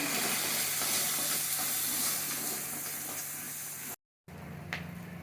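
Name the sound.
sautéing spices with Kashmiri red chili powder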